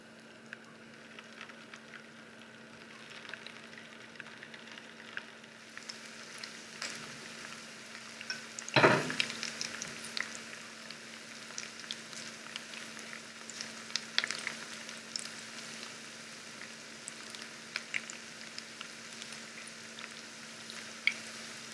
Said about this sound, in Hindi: ऑयल गर्म हो गया है, अभी इसमें हम ये कबाब डालेंगे।